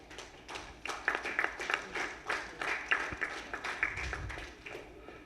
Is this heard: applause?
yes